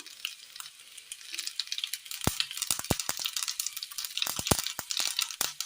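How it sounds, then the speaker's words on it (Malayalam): Mustard seeds sputter and crackle in hot coconut oil, a steady sizzle broken by sharp popping bursts that grow denser toward the end, close and fairly loud with no talking. "ചൂടായ എണ്ണയിലേക്ക് കടുകിട്ട് കൊടുക്കാം"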